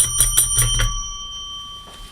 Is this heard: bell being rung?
yes